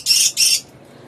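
A female parrot gives two shrill, piercing calls in quick succession, close and loud, then falls silent.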